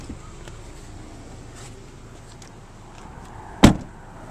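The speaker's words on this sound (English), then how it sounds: "Easy lift gate to open and close." The liftgate of a 2008 Subaru Outback is handled amid quiet background noise, ending in one sharp, loud thump as it shuts close by.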